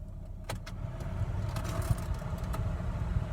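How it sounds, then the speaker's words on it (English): Low rumbling hum inside a car with the heater fan blowing steadily, plus a few faint clicks and rustles. "Sorry for the noise. I'm in the car with the heat on."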